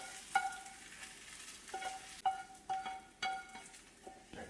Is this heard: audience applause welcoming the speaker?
no